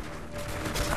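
Bursts of rapid gunfire in a multiplayer shooter match, dense and continuous for a second, loud and close with a brief swell near the end, with no talk over it.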